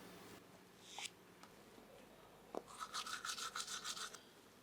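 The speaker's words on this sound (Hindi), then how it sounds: "तुम जल्दी ब्रश कर लो" Teeth brushed with a toothbrush: faint, close scrubbing with a quick run of rhythmic back-and-forth strokes after a few scattered rubs, in a quiet room.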